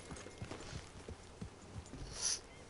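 Horse hooves clip-clop at a steady walking rhythm in Red Dead Redemption 2, moderately close over a quiet outdoor ambience, with a brief brighter rustle near the end.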